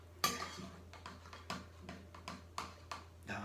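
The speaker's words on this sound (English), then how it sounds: "So you just mix your eggies in" Eggs are stirred in a bowl with a utensil, giving a quiet, rhythmic series of light clinks and scrapes against the sides, about eight strokes at a steady pace.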